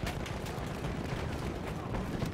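Gunfire in the Battlefield 1 video game, a dense, continuous wash of battle noise with sharp broadband shots scattered through it, steady and loud throughout the short stretch.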